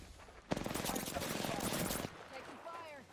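Automatic weapon fire in Apex Legends, a rapid burst of shots lasting about a second and a half close up, followed by softer scattered game sounds and voices.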